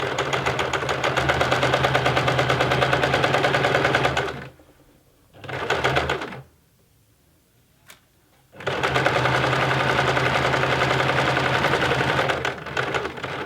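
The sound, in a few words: sewing machine stitching a honeybee cushion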